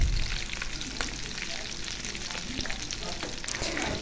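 Egg and potato fritters coated in besan batter fry in hot oil with a dense, continuous crackling sizzle and faint stirring, close and steady, with no speech.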